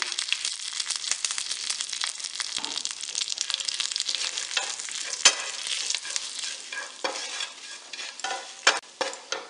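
Dried red chillies, curry leaves and idli powder fry in oil with a loud, continuous crackling sizzle, dense spattering pops throughout, and a few sharper bursts near the end.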